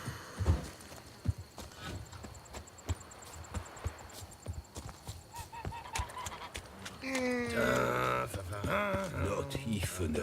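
Horse hooves clip-clop in a slow walking rhythm alongside ambient game sounds in The Witcher 3: Wild Hunt – Blood and Wine, with voices speaking and a horse-like whinny toward the end.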